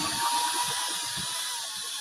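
A power drill whines steadily at close range as it bores into wood to make a pencil holder, a continuous high buzzing drone that holds for a couple of seconds.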